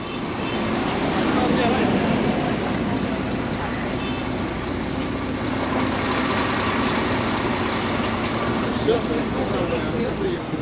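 Steady rumble of a bus engine idling at a Vietnamese border crossing while passengers step off, with continuous outdoor crowd chatter and voices over the low drone.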